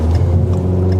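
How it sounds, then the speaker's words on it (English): A 2011 Ford Focus engine pulls hard while merging onto a highway, a loud, steady low drone with strong engine harmonics, heard from inside the cabin. "as I accelerate onto this highway"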